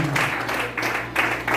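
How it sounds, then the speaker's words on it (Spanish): A church congregation claps together in uneven bursts that swell and fade, moderately distant and faint, with a low hum of the room underneath. "Dale unas palmas al Señor, que tiene el Dios de todas las autoridades."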